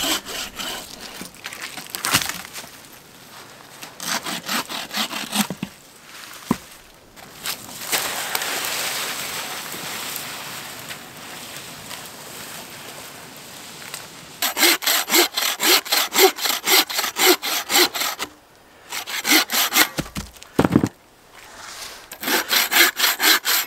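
A hand saw cuts through small dead standing hardwood for firewood at a winter camp, with rhythmic back-and-forth rasping strokes in several bursts separated by pauses, close and clear.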